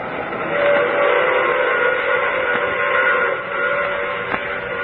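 A train sound effect from an old-time radio drama: a steady rolling rumble of rail cars carries a sustained whistle tone throughout, loud and close, with no voices.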